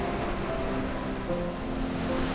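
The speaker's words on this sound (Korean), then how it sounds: "한자 한자 꾹꾹 눌러 쓴 글자들을 순식간에 파도가 휩쓸어 갑니다" Waves washing over letters pressed into beach sand, a soft continuous surf wash with steady wind noise and no voices.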